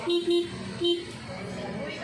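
A motorcycle horn gives several short, high beeps in quick succession, then falls silent over a low background hum; the motorcycle has a faulty battery and regulator.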